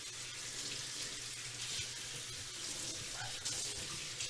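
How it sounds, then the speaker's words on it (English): Running tap water steadily rinses coffee grounds from the separated parts of a French press coffee maker, a continuous close hiss and splash that lasts the whole time. "wash out any extra coffee grounds caught in between"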